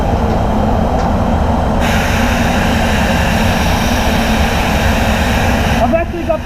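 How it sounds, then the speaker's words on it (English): A high-volume air blower blasts a steady, loud roar across the roof of a Mazda CX-5 to dry Standoblue three-stage pearl base coat paint, continuous and close for the whole stretch, with a brief shift near the end. "It just blasts the air out like such a great volume of air."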